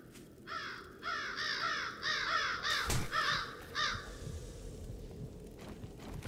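A crow in the game 7 Days to Die caws rapidly, five or six harsh calls in quick succession close by, broken by a brief sharp impact, then quieter ambient game noise.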